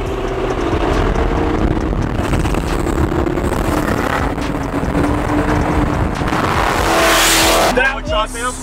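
A loud, steady Hellcat car engine roar with a rough, droning tone that rises sharply near the end as it revs, then drops off abruptly.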